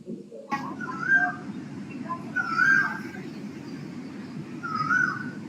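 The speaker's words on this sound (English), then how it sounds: "Now I'll be listening to cuckoo calls." Cuckoo calls recorded outdoors in March and April come in three clear repeated phrases, each a short rising whistle, heard faintly over a steady low hum.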